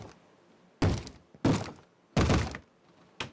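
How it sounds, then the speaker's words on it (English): Heavy banging on a door in the Minecraft video game, modded 1.6.4 multiplayer, sounding as four loud, close, booming thuds spaced irregularly with no talking. "Quit banging on the door while I'm working."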